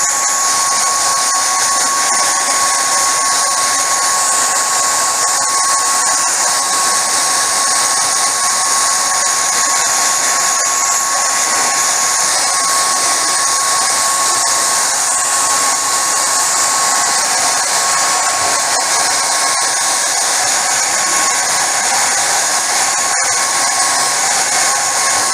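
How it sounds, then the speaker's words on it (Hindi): Hair dryer running steadily at close range to dry a freshly coated screen-printing screen, a continuous loud whine with a fixed tone, no voices. "तुरंत हेयर ड्रायर लेना है आपका, और हेयर ड्रायर से इसे ड्राई कर देना।"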